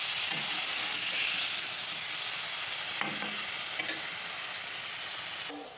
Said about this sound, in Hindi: पनीर में ना हल्दी नमक डाल के मैंने रखा था, तो उसको मैं पहले फ्राई कर लूँगी थोड़ा-सा